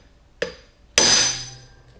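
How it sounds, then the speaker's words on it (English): A hammer strikes an impact screwdriver twice to break loose a stubborn screw on a 1974 CT70 engine case. The first blow is a short, sharp tap; about half a second later comes a louder metallic crack with a ringing decay. "I use one of these impact screwdrivers where you put it in, put some tension on it, and then hit it with a hammer"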